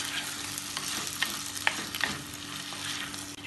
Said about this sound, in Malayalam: ഇതിനി 2-3 മിനിറ്റ് ഇളക്കി വഴറ്റുക